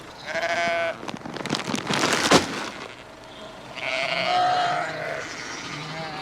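Sheep bleat on a farm during lambing season, several loud, close cries in a row separated by pauses, with outdoor background noise.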